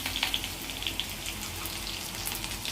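Chilies fry in hot oil in a pan for samiya upma, giving a fine continuous sizzle with tiny crackles and pops heard close up, with no voices over it.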